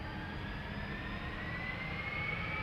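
A Delta Air Lines jet airliner departs Amsterdam Schiphol Airport with a steady, loud jet-engine roar and a rising whine running through it, sustained without a break.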